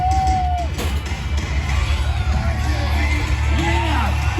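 A rodeo crowd of young and old fans cheers and whoops under evening lights, a dense, steady wash of voices with scattered shouts rising over a low rumble throughout.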